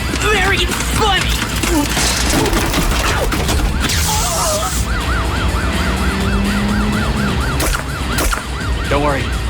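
Wailing ambulance siren during a frantic vehicle chase, loud and close with warbling tones over engine roar, gunfire-like bursts and excited voices talking throughout.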